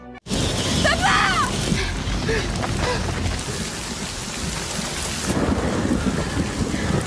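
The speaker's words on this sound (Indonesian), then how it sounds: "mereka pun semakin panik karena hujan mulai turun." Steady, loud rain pours throughout with deep rumbling thunder underneath, and a muffled voice briefly rises above the downpour near the start.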